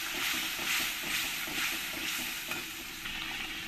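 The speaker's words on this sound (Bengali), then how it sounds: "জল দিয়ে ভালো করে আমি মশলাটাকে কষিয়ে নেব" Masala for a Bengali rui fish curry stir-fried with water in a pan, a dense steady sizzle with soft rhythmic stirring strokes, close and continuous.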